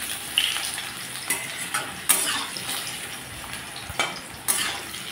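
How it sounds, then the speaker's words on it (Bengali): Potatoes frying in a pan after a cumin tempering, turned with a spatula: steady close sizzle with repeated scraping stirs and metal clinks against the pan. "আলুগুলোকে আমি একটু লালচে করে ভেজে নেব।"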